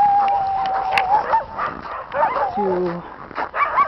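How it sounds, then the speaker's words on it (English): Sled dogs kept in outdoor cages at minus 42 degrees Celsius in Yakutsk, Siberia, whine, yip and bark close by while someone talks over them. "They leave these dogs inside these cages."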